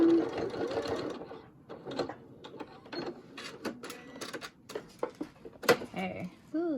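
A sewing machine stitches a fabric pocket mask, close and loud in short rapid bursts of mechanical chatter separated by pauses, with someone talking between and over the runs.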